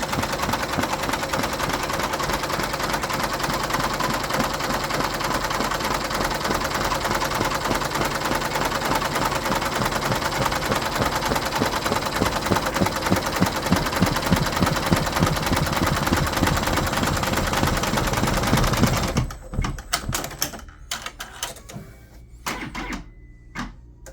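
A Happy embroidery machine tacks fabric down with rapid, dense, steady stitching for about twenty seconds, loud and close, then stops. Scattered clicks and knocks follow as it comes to rest.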